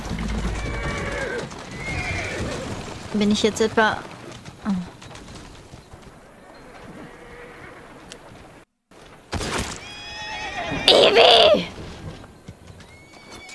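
Horses neigh and whinny in the video game Assassin's Creed Syndicate, with clip-clopping hooves and cooing pigeons in a busy street scene, and someone talks over parts of it.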